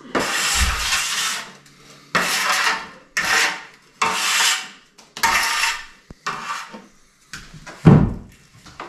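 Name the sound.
scraping plaster off a straight edge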